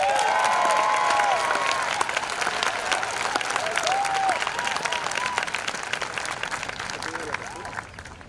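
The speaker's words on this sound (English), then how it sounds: "I'd like to give another round of applause" A large audience at a graduation ceremony claps steadily and loudly throughout, a dense continuous applause with occasional voices and cheers in the crowd.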